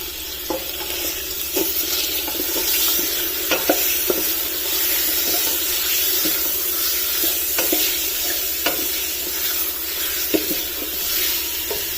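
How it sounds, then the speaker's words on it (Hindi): Bone-in chicken pieces, including neck and leg, fry in hot oil in a pan for a chicken corn soup, with a steady loud sizzle and repeated scraping stirs throughout, no voices. "चिकन को इसमें 4 से 5 मिनट तक अच्छी तरह से भून लेना ताकि इसका कलर भी चेंज हो जाए।"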